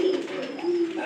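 A pigeon coos steadily and close by as a flock of pigeons feeds on grain, a brief continuous throaty call.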